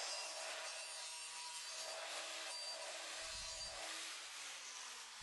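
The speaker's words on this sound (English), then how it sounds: "Clean any remaining burrs off again with a little polishing wheel I've got." A small polishing wheel grinds steadily against metal, removing burrs on a hot rod halogen headlight conversion part, a continuous close abrasive whir and rub with no talking.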